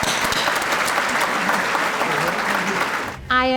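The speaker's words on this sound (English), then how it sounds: "So another round of applause to our team." Steady, full applause from an audience at an awards ceremony runs nearly unbroken for about three seconds before cutting off, and a voice begins to speak at the end.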